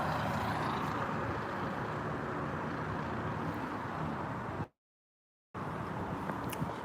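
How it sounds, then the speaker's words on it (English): Broad, loud rumble of a large truck passing close by, steady roar with a short dropout before it resumes. "It's this loud truck right now."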